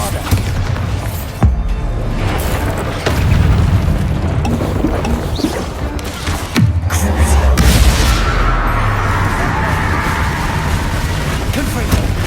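A Bombarda spell in Hogwarts Legacy on PS5 blasts with a couple of heavy booming impacts and a rolling rumble, over busy game effects and battle noise.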